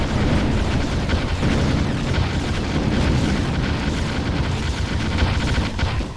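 A Hoverdyne unit blows up during a Ground Control multiplayer match, giving a dense, steady rumble of booms and blasts with heavy low-end noise that stays continuous and loud, with no talk over it.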